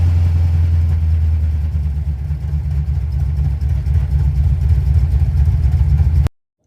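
Car engine fitted with an Edelbrock 1405 carburetor restarts without throttle and settles into a steady, close, loud idle with a low rumble that runs evenly for several seconds before cutting off abruptly.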